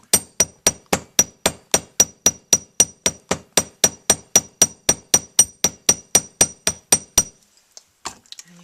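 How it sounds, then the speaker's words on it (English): A hammer strikes metal wire in a steady, even series of about twenty-five ringing taps, close and distinct, then stops. "just hammer the top"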